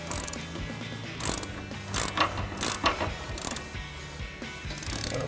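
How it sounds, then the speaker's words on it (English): A ratchet driving a 6 mm Allen socket clicks in short bursts while tightening a Five8 Industries SS Sport coil-over on a 2005-2014 Mustang, with several quick ratcheting passes spaced through the clip over a steady low shop hum. "we're going to need a 6 millimeter Allen socket on our ratchet and a 19 millimeter ratcheting wrench"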